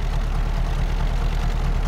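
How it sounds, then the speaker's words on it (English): A tractor engine idles steadily in Farming Simulator 15, a continuous low throbbing rumble with even, close, unchanging loudness and no talking. "The engine note's good too."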